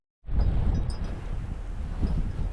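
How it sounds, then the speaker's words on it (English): Strong wind gusts buffet the microphone beside a lake with whitecaps on the water, a loud, steady low rumble that starts abruptly and continues throughout. "Looks like it's a windy day today."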